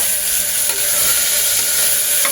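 Onion and tomato fry in a pan for vegetable khichdi, making a loud, continuous close-up hiss of sizzling with faint stirring underneath.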